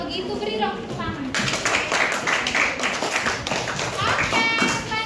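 Classroom applause breaks out, a burst of brisk hand claps from students that swells and carries on for several seconds, with children's voices chattering over it.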